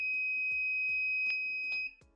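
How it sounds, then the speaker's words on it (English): A water tank level monitor's buzzer alarm sounds for a full tank, a steady electronic tone with faint clicks underneath, cutting off near the end. "I can also press this button to reset the buzzer."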